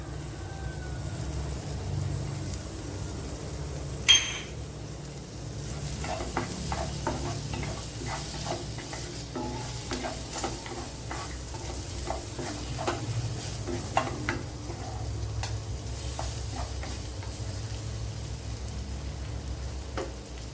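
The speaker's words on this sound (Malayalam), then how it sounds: "അതിലേക്ക് ഏഴ് വെളുത്തുള്ളി ഇട്ട് കൊടുക്കുക ഏഴ് വെളുത്തുള്ളിയെ രണ്ടു മൂന്ന് പച്ചമുളകും അതുപോലെ ഇത്ര ഇഞ്ചിയും ഇട്ട് കൊടുക്കുക" Garlic, green chili and ginger fry in a pan under a low, steady sizzle, with light spoon-and-pan clinks and scrapes as they are stirred, plus a sharp knock near the start.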